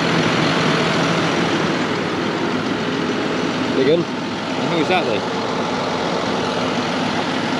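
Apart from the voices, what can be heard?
tractor engine running while mowing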